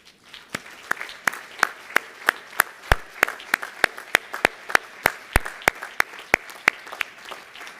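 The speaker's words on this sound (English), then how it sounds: "So I say give yourselves one more big round of applause" A round of applause at a White Coat ceremony, heard as steady, evenly spaced sharp claps close by, sounding like a few hands clapping in rhythm with a softer crowd wash behind.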